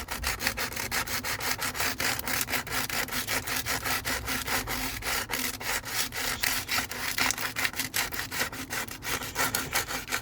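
Hand sanding of a car alloy wheel for repainting, a steady rapid back-and-forth rasping scrape, loud and close, continuing evenly without pause.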